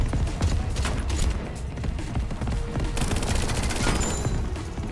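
Rapid gunfire against turrets in the video game Echo Point Nova, a loud, steady stream of overlapping shots with no gaps, joined by denser bursts toward the end.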